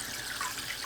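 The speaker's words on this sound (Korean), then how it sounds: "닭을 씻어주세요. 피가 고여있는 부분을 깨끗하게 씻어줍니다." Tap water runs steadily over raw chicken being washed in a kitchen sink, a brief, soft, continuous splashing trickle with no voices.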